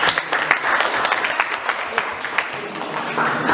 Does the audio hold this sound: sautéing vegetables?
no